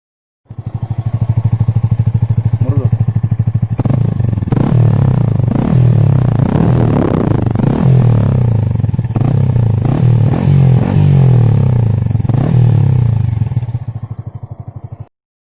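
A Yamaha MT-15 150cc motorcycle engine idles and revs with a steady low chug, throttle blips rising and falling, plus some clattering and mechanical knocks nearby.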